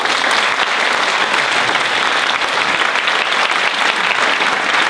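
Sustained applause from a concert audience after a band performance, a dense, steady clatter of many hands clapping at even loudness with no pauses.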